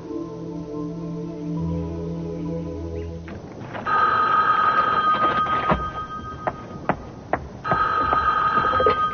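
A telephone bell rings in repeated bursts with short gaps, fairly loud and close, following a few seconds of soft background music, with no talk.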